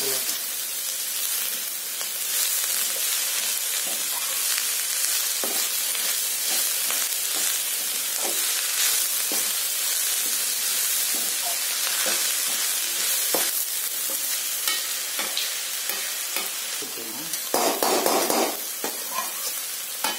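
Chopped spring onions and egg sauté in a pan with a continuous sizzle, broken by frequent scraping stirs and a louder burst of frying near the end, close up with no one speaking.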